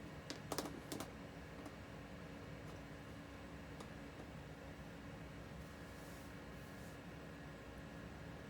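Keys clatter on an old Compaq Armada 1500 laptop keyboard, starting with a few sharp clicks and then settling into faint, sparse tapping under a constant fan-like hiss.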